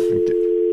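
A telephone dialing a 9 to get an outside line gives a steady tone that holds for under a second, loud and alone, with a brief soft click partway through.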